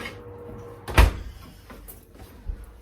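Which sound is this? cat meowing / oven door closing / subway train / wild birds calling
oven door closing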